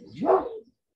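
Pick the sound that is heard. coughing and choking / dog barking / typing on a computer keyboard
dog barking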